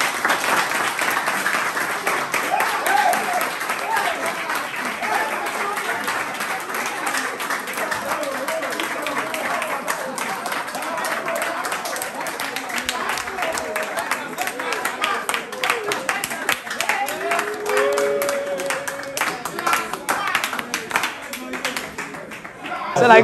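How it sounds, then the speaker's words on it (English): Students clapping together in a room, dense continuous applause with a few voices mixed in, holding steady throughout. "So there was a part where the students started clapping"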